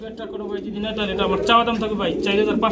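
Pigeons coo in low, throaty bursts close by, with murmuring voices mixed in throughout.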